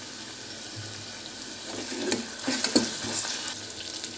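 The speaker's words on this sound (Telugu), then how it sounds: "కర్రీ అయితే వండుతున్నాను. ఆనియన్ అయితే వేసాను, బాగా మగ్గనివ్వాలి ఆనియన్. అల్లం పేస్ట్ అయితే వేసుకుంటున్నాను" Onions and ginger paste fry in a curry pan with a steady low sizzle, broken by a few sharper stirring scrapes and clatters partway through; no one speaks.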